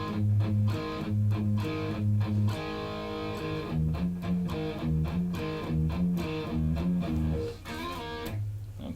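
Overdriven electric guitar plays a chugging E5 power-chord riff, rhythmic palm-muted low chords alternating with brighter sustained chord stabs and a short slide, loud and up close with no voices.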